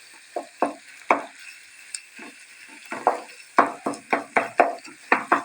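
Minced meat for karnıyarık filling fries in a pan while a spoon stirs and scrapes it, giving a soft sizzle under sharp, irregular clicks that quicken toward the end, close and fairly quiet.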